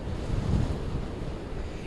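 Atlantic Ocean surf pounding near Nags Head pier under strong wind, a continuous heavy roar of breaking waves mixed with gusty wind buffeting the microphone, loud and steady with no talking.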